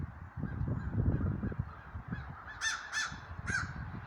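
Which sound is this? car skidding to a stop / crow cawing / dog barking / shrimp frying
crow cawing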